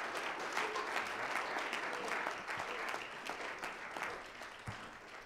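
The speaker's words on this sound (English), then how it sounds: "you need to give yourself a hand clap for that tonight" Congregation clapping at a church youth rally night, a fairly quiet, sustained patter of hands with a few sharper claps standing out.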